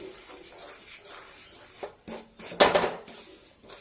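Chilli powder and spices being stirred and roasted in a pan for a drumstick and potato theeyal, with scraping spoon-on-pan clatter in irregular bursts, one louder rattle midway, close and without talk.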